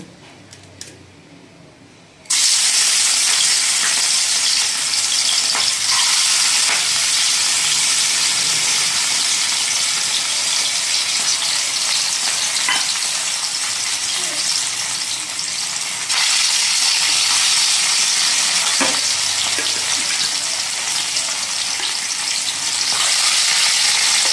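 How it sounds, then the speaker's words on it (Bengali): After a brief quiet moment, a loud, steady sizzle of rohu fish frying in mustard oil starts suddenly and continues throughout, with occasional faint clicks. "আর এখন মাছগুলো একটা একটা করে দিয়ে ভেজে নেব।"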